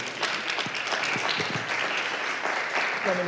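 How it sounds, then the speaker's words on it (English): A room full of people applauds, a dense steady patter of clapping at moderate volume that continues without a break. "Let's give her a round of applause as she comes forward"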